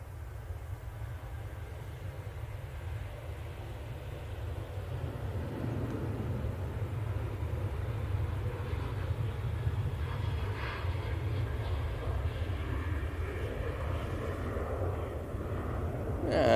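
TUI airliner taking off from Manchester Airport, heard as a distant, low, steady engine roar that slowly builds as the aircraft climbs away, with no talk over it.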